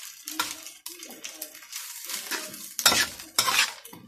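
Vegetables stir-fried dry in a pan, with repeated scraping and clattering strokes of a utensil over a light sizzle, irregular bursts close by.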